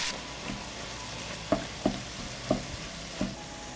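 Minced meat, 500 grams, fries in a pan of heated oil with onion and garlic: a low steady sizzle broken by several sharp, close spatula knocks and scrapes at an uneven pace.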